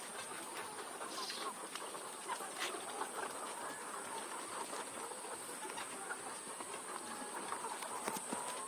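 Chickens cluck and murmur on a raised bamboo-platform poultry farm, a faint, continuous mass of bird sounds with occasional sharper calls throughout.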